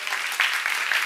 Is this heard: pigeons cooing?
no